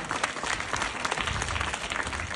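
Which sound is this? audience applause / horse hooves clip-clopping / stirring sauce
audience applause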